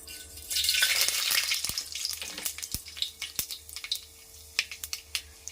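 Tempering seeds crackle and sizzle in hot oil in a pot for a brinjal and tamarind-leaf curry, a dense hiss at first that thins into scattered sharp pops, with no talking.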